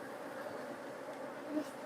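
Honey bees from a shaken hive box hum in a dense, steady swarm buzz, close and fairly quiet, with no pauses.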